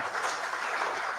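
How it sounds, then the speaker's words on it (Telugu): An audience applauds at a one-day national seminar on education in Andhra Pradesh during a certificate distribution, a brief, steady wash of many hands clapping close by, with no voices over it. "Give a big claps."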